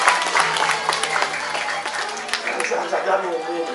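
An audience at the Bali Arts Festival claps in a dense, continuous burst of applause, loud and close, with voices mixed into the crowd noise.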